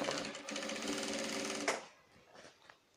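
A sewing machine runs fast stitching a shirt sleeve seam, a steady rapid mechanical chatter for about a second and a half before stopping, followed by faint handling clicks.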